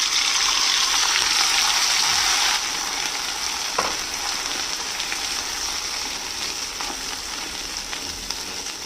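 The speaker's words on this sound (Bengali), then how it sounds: "এক চামচ জিরে জিরেটা দিয়ে একটু ভাজা হলে দিয়ে দেবো আলু" Cumin seeds frying in hot white oil in a pan before potato goes in, a dense continuous sizzle with a few faint clinks, steady and close, no voices.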